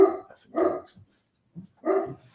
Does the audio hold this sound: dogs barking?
yes